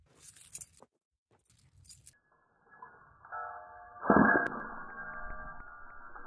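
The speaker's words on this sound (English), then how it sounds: "The responsible thing to do would be to hand me your keys right now." Keys jangle in a few short, bright bursts as they are handed over, then give way to quieter mechanical clicks and a louder humming rumble.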